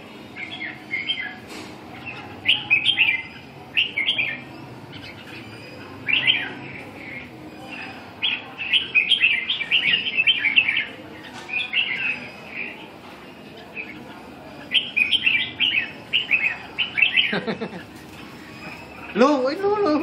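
Red-whiskered bulbuls chirp and sing in repeated bright, warbling phrases, fairly close and clear over a quiet background, with short pauses between bursts across the whole stretch.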